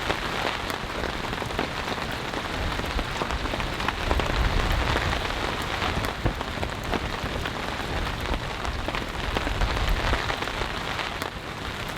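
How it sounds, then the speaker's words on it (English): Heavy rain drums steadily and loudly on a cheap tent during an overnight storm with strong winds, a dense unbroken roar close by with no voices. "It's gonna rain all day, all night, tomorrow, the next day, and so on."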